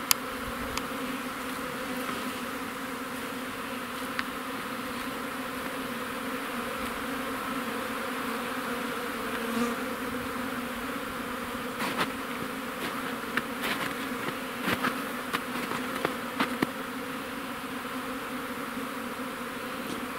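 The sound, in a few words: honeybees flying around hive on early spring flight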